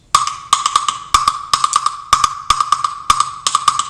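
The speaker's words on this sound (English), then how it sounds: "The gua sounds like this." Gua, a sharp wooden percussion pattern, struck on the side of a bomba drum, playing a repeating syncopated rhythm of crisp clicks in clusters of two and three, close and clear with no other sound.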